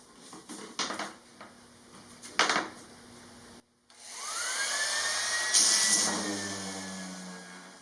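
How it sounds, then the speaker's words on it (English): Sanding down a wooden countertop inside a camper van, with a few bumps and scuffs before a power sander starts with a rising whine and runs steadily for several seconds, close and moderately loud. "So the first thing what I'll do is sand it down a bit."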